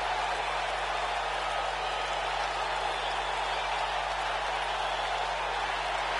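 A WWE 2K19 arena crowd cheers for Rey Mysterio in a steady, dense roar that holds constant throughout, with no individual voices standing out.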